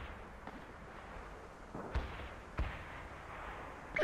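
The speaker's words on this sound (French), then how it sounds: "Barrage d'artillerie sur cette position." An artillery barrage in the strategy game World in Conflict: muffled, distant booms land a few seconds apart over a steady rumbling battlefield ambience.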